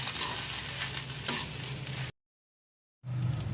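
Chilli stirs into a maida and wheat-flour mixture in a hot pan, a steady close sizzle with a few scraping strokes, broken by a second of total silence before the frying sound resumes.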